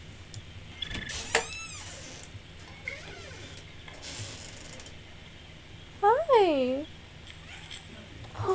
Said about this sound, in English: You can hear my cat crying in the background because he wants inside.